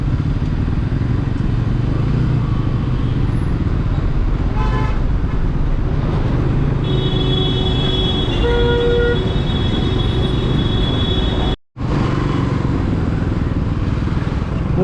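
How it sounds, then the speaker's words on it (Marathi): Traffic jam on a road in Maharashtra heard from a motorcycle, with a constant engine and road drone and several horn honks, one long sustained blare, close by amid the congestion. "पुन्हा एकदा ट्रॅफिक जाम लागलंय भाई"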